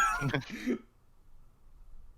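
A voice produces a short, throaty mock cough close to the mic, followed by near silence.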